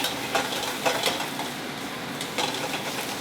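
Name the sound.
pasta added to pan with pesto and pine nuts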